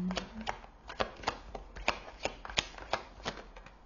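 Tarot cards are shuffled by hand in a quick run of crisp, close riffling snaps, followed by a few softer slides as cards are drawn.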